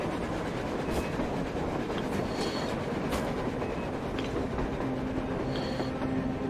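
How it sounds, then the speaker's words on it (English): A train rolls by on the surface in the video game Metro Exodus, a steady, continuous rumble with rail clatter and faint metallic squeals, heard alone with no talking. "A train! A damn train on the surface!"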